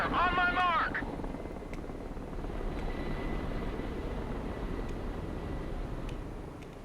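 A Chinook helicopter in the video game Broken Arrow gives off a steady rotor and engine drone throughout, with a short radio voice near the start.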